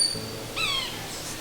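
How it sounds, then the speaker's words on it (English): A high, shrill bird call rings out from the forest canopy near a beaver pond, a few thin whistled notes about halfway through, fairly distinct over quiet background. "Did you hear that really high-pitched shrill sound? Is that the same bird?"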